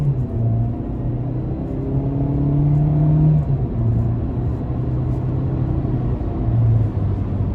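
Engine of a 2016 Chevrolet Spark, a small city car, accelerating under throttle from inside the cabin: a steady low rumbling drone whose pitch rises and falls gently over several seconds, with no talking.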